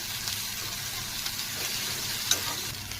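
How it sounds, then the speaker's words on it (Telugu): Brinjal and cucumber pieces fry in a pan for chutney, giving off a soft, steady sizzle with one faint click partway through. No one speaks. "ఇవి బాగా వేపుకోవాలి"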